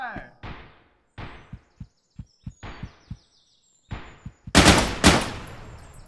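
Sharp gunshots crack one after another in the video game Intruder, single shots spaced apart, then a dense loud burst of rapid fire near the end.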